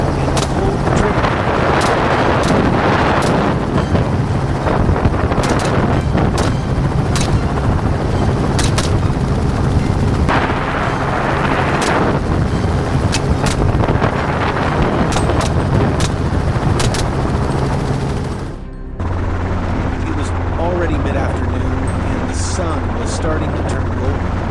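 A helicopter thrums loudly and continuously with rapid rotor beats and wind buffeting during a wild boar hunt, punctuated by sharp gunshot cracks, and a brief dip near the end.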